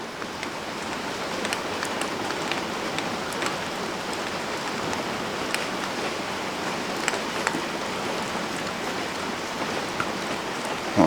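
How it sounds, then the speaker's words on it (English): Steady rain falls outside a garage, a dense, even hiss with scattered drops and patters striking surfaces throughout, moderately loud and continuous with no voices. "it's raining outside"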